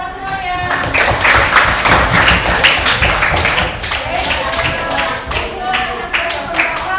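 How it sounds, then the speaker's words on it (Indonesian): Children in a classroom clapping their hands together, a burst of many overlapping claps with sharp individual slaps standing out, fairly close and loud, with some children's voices and chatter mixed in. "Tepuk tangan semuanya."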